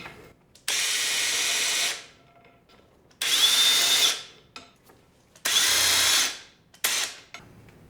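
Power tool drives bolts into a Ford 8.8 axle in four separate bursts, each a loud whirring buzz of about one to two seconds separated by short pauses, close and without talk.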